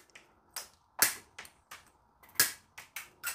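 Leatherman multitool wire cutters snap through wire in a series of sharp, close, dry clicks, around nine cuts at an uneven rhythm with short silences between them.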